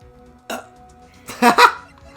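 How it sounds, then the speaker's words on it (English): A person burps during video game commentary: a short guttural burst, then a louder, longer double burp close to the microphone, with quiet game sound underneath. "I had to burp."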